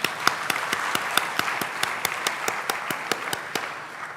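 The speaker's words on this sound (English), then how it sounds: "Shall we applaud that?" Applause at a student recognition awards ceremony, a small group clapping in a steady, fairly regular rhythm of distinct claps, moderately close and alone without talk.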